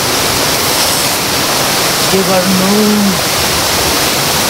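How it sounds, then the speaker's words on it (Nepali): A village stream in Nepal, swollen after recent rain, flows with a loud, steady, close rush throughout, and someone speaks briefly over the water midway. "अहिले चाहिँ म यो खोलामा आइपुगिसकेको छु"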